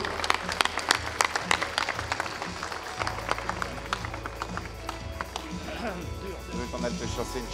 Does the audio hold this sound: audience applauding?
yes